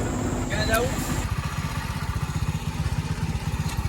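A tractor pulling a trolley chugs along in a fast, even diesel putter, close and loud, after a brief burst of voices and clatter at the start.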